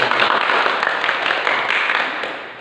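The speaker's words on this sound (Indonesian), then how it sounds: "Mari kita tepuk tangan." Children at an online Sunday school clap their hands together, a dense, steady patter of applause close by that tapers off slightly at the end.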